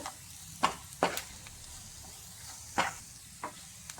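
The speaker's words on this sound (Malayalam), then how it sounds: "ഇനി മുളക് പൊടിയുടെ പച്ചമണം മാറുന്നത് വരെ ഒന്ന് ഇളക്കി കൊടുക്കാം" A pan sizzles softly as chili powder fries while a spoon scrapes through it in a few sharp, irregular strokes, close and fairly quiet.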